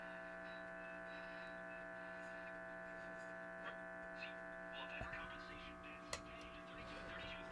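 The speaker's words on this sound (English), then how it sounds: "That's why we're hearing so much hum." A 1946 GE Model 100 AA5 tube radio with a bad electrolytic capacitor gives off a steady, low mains hum, with faint crackles and small clicks over it.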